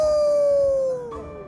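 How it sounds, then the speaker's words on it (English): A game character in Thronebreaker lets out a long, loud, sustained hound-like howl that slowly falls in pitch and then fades into quieter trailing tones. "Howl!"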